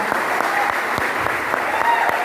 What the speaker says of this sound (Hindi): विवेक कुमार सक्सेना सर के लिए जोरदार ताली बजाइए आप।